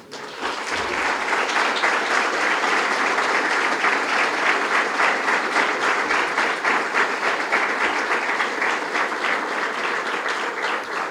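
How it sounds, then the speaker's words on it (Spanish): A church congregation gives sustained applause to the Lord during a sermon, a long, dense, even wash of many hands clapping that holds steady for about eleven seconds. "Dele un aplauso al Señor"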